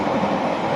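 A train on the Great Western Main Line at West Drayton gives a steady, loud rumble and rail roar throughout, with no talk.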